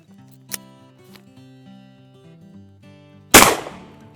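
Shotgun loaded with birdshot and fitted with a cylinder choke fires one loud, sharp blast near the end, preceded by faint clicks and a low tonal hum in an outdoor setting.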